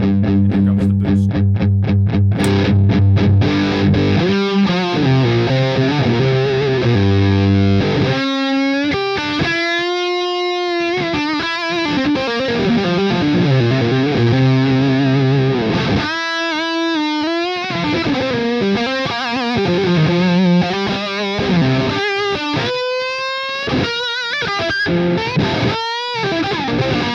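An electric guitar played through a Fuchs Mantis Jr. amp with the boost engaged, giving a thick, driven, distorted tone with sustained chords and singing lead lines, loud and continuous with no talking.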